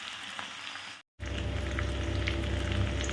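Crushed garlic and chili frying in oil over low heat while being stirred for a soybean tadka, a dense steady sizzle with a brief cut before it resumes louder.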